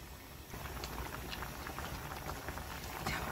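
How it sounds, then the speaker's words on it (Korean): A pot of Korean soybean paste soup with zucchini and Cheongyang chili bubbles at a quiet, steady rolling boil, soft popping bursts forming a dense patter with no talk. "이제 한 번만 쑥 끓여주면 아주 맛있게 완성이 될 것 같아요."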